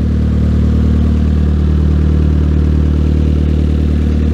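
A Toyota Tercel Paseo's 4E engine idles steadily after an alternator replacement, a close, continuous low rumble with a faint mechanical clatter and no speech.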